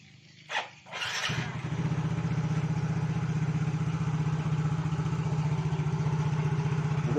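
A fuel-injected Yamaha motorcycle with a power fault sits in a village repair shop. After a couple of short mechanical clatters the engine starts and settles into a steady, close, throbbing idle.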